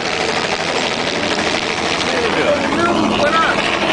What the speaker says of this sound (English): We got a helicopter in the street race.